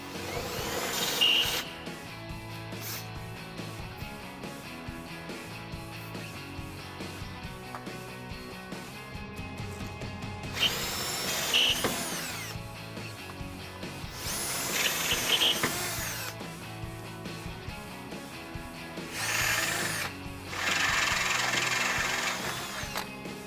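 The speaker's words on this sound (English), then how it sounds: "we can use our 5/16 inch drill bit." A power drill with a 5/16-inch bit whines steadily through metal on a Jeep Wrangler while fitting side armor, with several louder bursts as the bit bites, mechanical and continuous with no talking.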